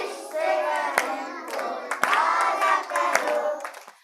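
Children's audience at a library storytelling session clapping together, with sharp loud claps standing out over crowd chatter and shouting voices.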